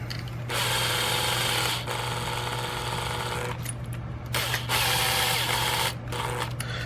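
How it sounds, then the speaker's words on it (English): A power screwdriver drives screws into a Toyota Tundra model kit, whirring loudly in three sustained bursts with short pauses between them, close and with no talk. "there's 2 more screws down here. We'll put those in"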